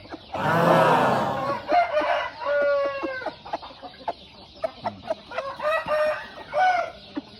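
A rooster, back in health after treatment for indigestion, clucks and crows close by in a series of loud calls with short pauses between them.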